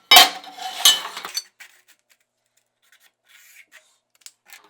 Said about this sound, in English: we're going to make sure we mark it on both sides of the material